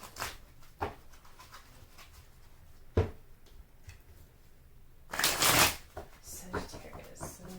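Tarot cards shuffled by hand, with several soft riffling flutters and taps followed by one louder, longer burst of shuffling near the end, close and fairly quiet.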